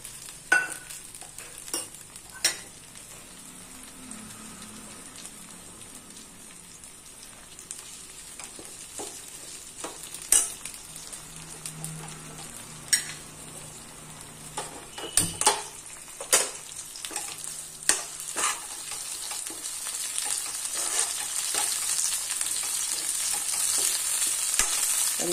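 Curry leaves sizzle and crackle in hot oil on top of softened onions, part of a Thrissur-style backwater fish curry with coconut milk; a steady frying hiss with scattered pops grows slightly louder toward the end, with no talking.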